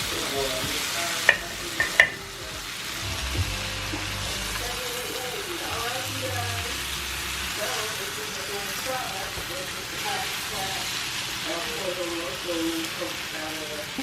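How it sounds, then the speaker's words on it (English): Potatoes and onions fry in a cast iron skillet, with a steady sizzle and a few loud scraping stirs early on, and the frying keeps crackling throughout. "So we'll mix it again to make sure we're getting that nice golden brown color on at least some of the potatoes."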